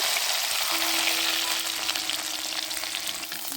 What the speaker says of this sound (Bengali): এখানে আমি পেঁয়াজ আর রসুন থেতো করে নিয়েছি, এটা আমি এখন তেলের মধ্যে দিয়ে দিব।